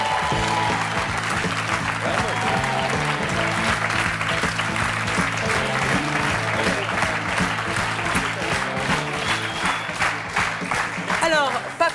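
Audience applause at a French television show, dense sustained clapping filling the room at a steady loud level throughout.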